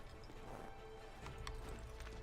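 Horse hooves clip-clop in Assassin's Creed III, a busy run of steady hoofbeats under a dense game soundscape, with a brief whinny-like sound and a few sharp clicks near the end.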